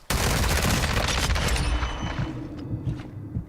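Video game gunfire from possible hip firing: a sudden loud burst of rapid shots that fades over a couple of seconds into scattered quieter pops.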